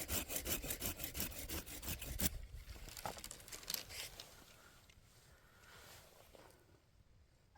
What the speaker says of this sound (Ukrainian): Ось беремо над брунькою і зрізаємо нашу підщепу.